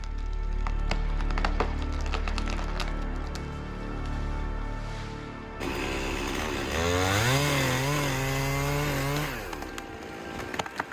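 A chainsaw runs at a steady buzz while workers fell hazard trees on a landslide slope, then it revs higher and bites into wood with wavering pitch as the cut progresses, loud and nearby.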